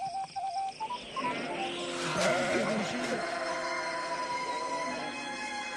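Sheep bleat at night in a film about shepherds tending their flock, with several moderately loud bleats layered into the soundtrack.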